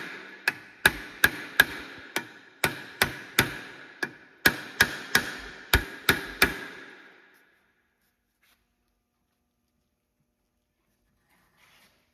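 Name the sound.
hammer hits freeing Lexus RX350 brake rotor from hub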